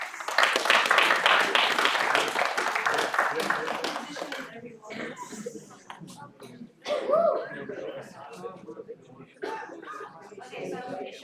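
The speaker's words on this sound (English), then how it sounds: "please welcome with a round of applause the Brisbane bhajan group Sahaja Yogi" Audience applause greets a Brisbane bhajan group of Sahaja Yogis at an evening puja program, a dense clapping for about four seconds that thins into scattered claps, murmurs and light talk.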